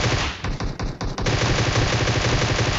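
Loud, sustained automatic gunfire in a video game firefight, with rapid continuous bursts and short breaks between volleys, dense and close throughout.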